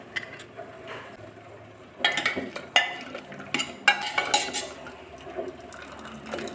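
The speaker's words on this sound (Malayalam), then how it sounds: "ഇനി കുക്കർ തുറന്ന് നോക്കാം" A pressure cooker is opened while making Kerala nadan ozhichu curry: a few metallic clanks and clatters of the lid and pot, sharp and close, with quieter handling sounds between.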